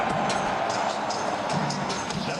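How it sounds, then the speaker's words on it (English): Football fans cheering in the stadium at a Canada versus Jamaica World Cup qualifying match, a steady crowd roar with scattered shouts, distant and sustained throughout. "the fans started cheering"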